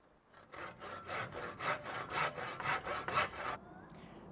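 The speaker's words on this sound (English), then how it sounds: "A tip for when cutting the frame in the middle is to slightly angle it. That way the saw doesn't bind when cutting into the frame." Handsaw cutting through the wooden frame of a sliding sash window, with about a dozen steady, rhythmic rasping strokes up close, loud and regular, then stopping abruptly.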